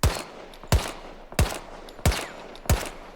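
A gun in the Battlefield video game fires slowly in semi-automatic mode. Five sharp, loud single shots ring out at an even pace of about one every two-thirds of a second, each followed by a brief decaying tail.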